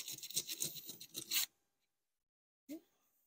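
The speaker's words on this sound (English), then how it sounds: "We'll just hit it with a brass brush real quick." A brass brush scrubs a rusty carriage bolt in a short burst of quick, raspy strokes lasting about a second and a half, followed by silence and one brief scrape, close and fairly quiet.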